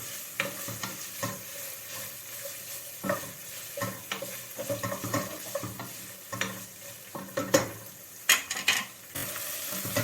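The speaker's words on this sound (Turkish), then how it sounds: "Etim kavrulmaya başladı benim." Meat browning in a pot with olive oil for a chickpea and meat stew, a steady sizzle and frying hiss broken by repeated scraping stirs of a spoon, close and without speech.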